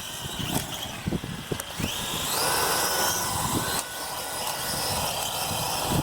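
A small drone's motor runs steadily at close range with a faulty blade that won't turn, giving a continuous mechanical whine that rises partway through, over brief knocks and handling noises.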